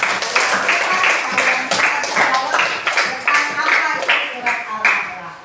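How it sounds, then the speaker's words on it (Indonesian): Classmates in an Islamic religious lesson clap together in a steady, repeated rhythm, each burst of hand claps sharp and close, continuing for several seconds. "Berikan tepuk tangan untuk kita semua"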